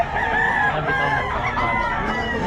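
Several roosters crow among chickens offered for sale in Bocaue, their drawn-out harmonic calls overlapping continuously at close range with a steady background of clucking and no talk.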